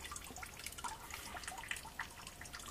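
Coolant water dripping as the radiator of a Nissan Skyline 350GT drains during engine work, a steady patter of small drips against a continuous trickling hiss, fairly quiet and close.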